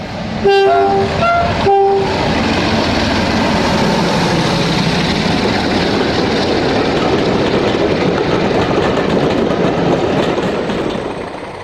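Diesel locomotive 47306 climbs a steep 1 in 37 gradient out of Bodmin Parkway, opening with two loud horn blasts, then a heavy, sustained engine roar that labours steadily close by and fades slightly at the end.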